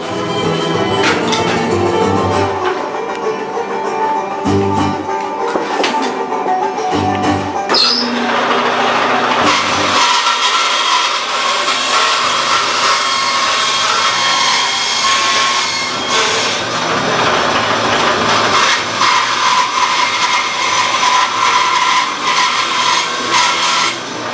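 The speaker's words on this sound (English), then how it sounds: "So I'll cut it on the bandsaw" A bandsaw cuts a wooden heel cap along a traced outline, a loud continuous whining saw drone with shifting pitch as the blade works through the wood, steady throughout with no talking.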